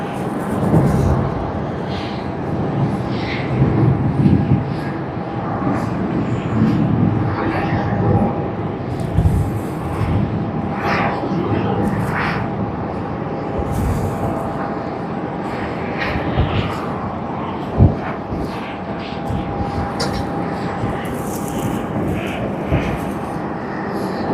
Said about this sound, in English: What aircraft is that?